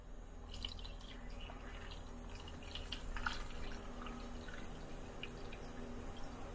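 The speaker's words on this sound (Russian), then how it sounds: "Заливаем воду." Water being poured into a cheap AliExpress handheld steamer's plastic tank, a faint continuous trickle with small drips and splashes, quiet and close, with no talking.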